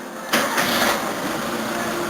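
A Toyota Corolla engine cranks and catches with a sudden burst after a short quiet moment, then settles into a steady, loud idle up close with no talking.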